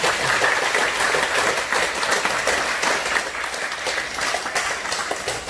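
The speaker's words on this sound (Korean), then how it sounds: "우리 박수 한번 쳐주시겠습니다" A church congregation clapping steadily and loudly, a dense, even wash of applause that carries on without a break.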